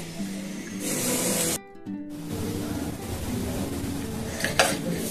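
A spatula scrapes and stirs a dry roasted gram flour mixture in a pan with steady rasping strokes, briefly pausing before continuing, close and fairly quiet.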